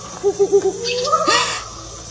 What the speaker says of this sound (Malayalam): പുള്ളിക്കുറവിലല്ലേ കൂവി പോയത്?